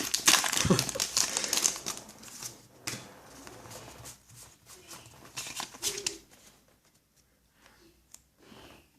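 A Pokémon Plasma Storm booster pack's foil wrapper is handled and torn open up close, with sharp crinkling and crackling that is loudest at first and then thins to softer, scattered rustles.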